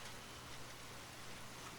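Steady, faint rain falling in the woods by a river, a soft continuous broadband hiss with no distinct drops standing out, alone without any voices.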